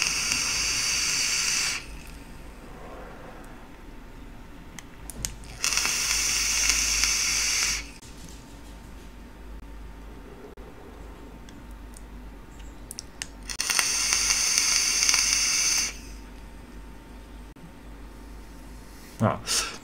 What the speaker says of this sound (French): comme vous le voyez, ça fait de la vapeur, il n'y a pas de souci